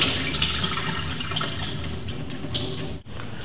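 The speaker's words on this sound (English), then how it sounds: "Make sure you rinse them with cold water so they cool down faster" Cold tap water runs over cooked pasta shells in a strainer, a steady close splashing rush that continues without talk.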